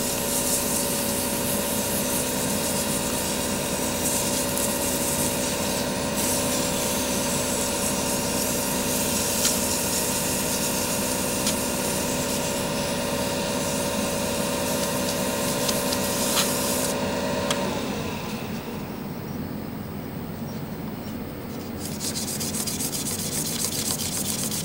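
Sandpaper rubs steadily against a wooden pen turning on a lathe, a continuous loud rasping hiss over a constant motor hum that shifts in tone near the end as the machine slows.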